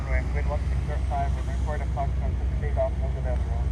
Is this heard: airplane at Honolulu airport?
yes